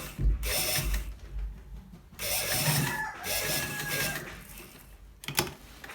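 A sewing machine stitches a seam on a men's kaftan dress in three short runs of whirring, ratcheting mechanical clatter separated by brief pauses, close by with no voices.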